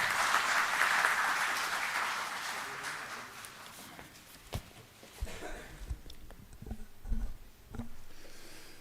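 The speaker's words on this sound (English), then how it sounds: "Huge round of applause, please." An audience gathered for a talk on India's G20 presidency claps for an arriving speaker. The applause is full at first, then thins out over several seconds into scattered thumps and footsteps as the room settles.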